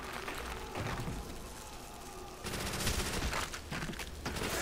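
A Thompson submachine gun fires in dense, rapid bursts at zombies on the Verruckt map of Call of Duty Zombies, loud and close, with a brief lull before a heavier stretch of continuous shooting.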